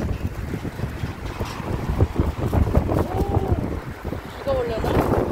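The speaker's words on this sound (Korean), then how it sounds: "바람이 너무 많이 불어." Strong wind gusts buffet the microphone outdoors on a walk with a Shih Tzu, a continuous loud rushing roar with a faint voice underneath.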